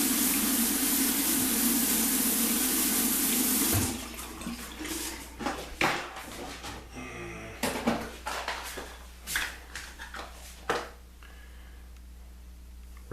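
Cold water runs steadily from a bathroom tap during a shave rinse, a loud continuous rush for about four seconds, then shuts off, leaving scattered splashes, drips and handling knocks of rinsing.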